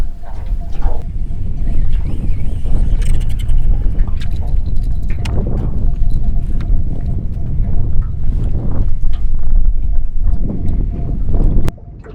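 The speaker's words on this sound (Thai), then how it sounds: "ลม" Strong wind buffets the microphone on a boat on the Ubol Ratana reservoir lake during snakehead fishing, a loud, continuous low rumble with gusting swells that cuts off abruptly near the end.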